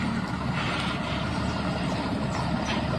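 A CCPR milk collection truck working on a dairy farm, its engine a steady close rumble with hissing and mechanical noise layered over it throughout.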